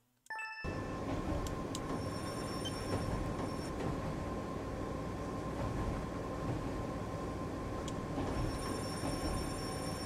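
A simulated train passes in Japanese Rail Sim: Journey To Kyoto, its wheels squealing on the rails. After a quiet start, a loud continuous rolling rumble sets in with thin high squeals and a ringing tone above it.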